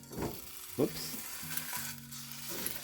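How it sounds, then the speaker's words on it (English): Bone-in beef shanks brown in hot oil over medium-high heat, giving a low, steady sizzle with a few soft bumps and scrapes, and a faint tonal hum running underneath. "Now that my oil has heated up, it's time to start adding the shanks."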